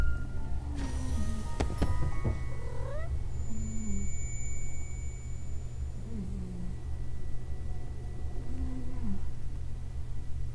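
A black cat meows a few times, short faint cries scattered over a steady low hum, with no talking.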